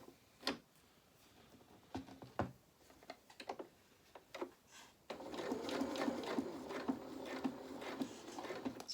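A sewing machine stitches fabric around the curved back neckline of a small waistcoat, first in a few short separate bursts of stitches, then running steadily and more loudly for several seconds, up close with no talk.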